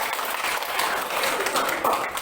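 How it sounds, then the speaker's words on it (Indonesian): Classroom applause for a student group that has just finished presenting, a steady, dense patter of many hands clapping close by for a couple of seconds with a few voices mixed in. "Kasih aplaus yang paling meriah untuk kelompok 4"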